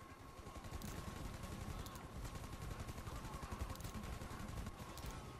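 Steady automatic gunfire in GTA Online, a dense continuous rattle of rapid shots with a faint tonal hum beneath, moderately distant and fairly quiet, running through the whole stretch.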